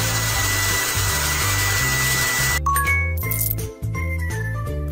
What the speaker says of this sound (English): Now let's use a hair dryer.